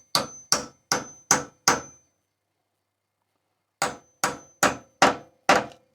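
A hammer drives a wooden wedge into the end of a tack hammer handle, two bursts of five sharp, evenly paced ringing strikes separated by a pause, close and loud with no talking.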